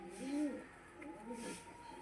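A newly paired small pigeon gives a soft, low coo or two, faint and close, with quiet background noise around it.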